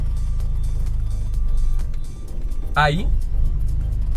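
A car engine holds at the clutch biting point on an uphill start, a low steady hum that dips slightly in revs, with someone speaking briefly over it.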